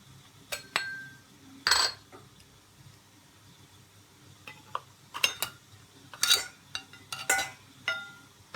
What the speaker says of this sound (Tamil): இப்போ நம்ம இதை எடுத்து ஒரு பாத்திரத்துக்கு மாற்றிடலாம்